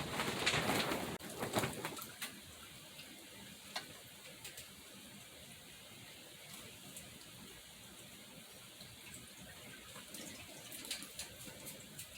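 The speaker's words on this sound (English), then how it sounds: "I'm going to water this one really good too" Water pours and trickles steadily into the soil of a potted juniper, a soft continuous splashing, with a bird calling faintly in the background.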